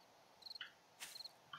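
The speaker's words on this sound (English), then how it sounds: "that the crickets come out and start making noises." Crickets chirp at night in the video game 7 Days to Die, several faint, quick trilled bursts in short repeated groups over quiet background, with no talking.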